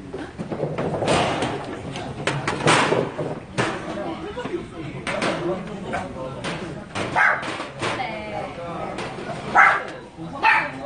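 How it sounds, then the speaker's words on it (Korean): A dog barks in sharp repeated yips and bow-wows, close by and mixed in with people chatting in a Korean bar setting in Daegu. "짖지 마."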